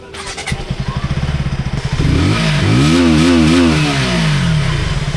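A 160 cc motorcycle engine starts with a rapid idle putter, then is revved hard and held at high revs, loud and close with no voices.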